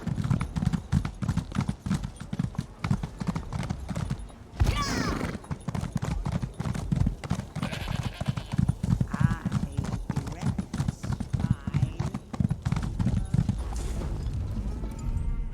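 Horse hooves clip-clop steadily on a stable path in the Elder Scrolls Online game, with the odd whinny and thud, loud and continuous alongside game voices and ambient chatter.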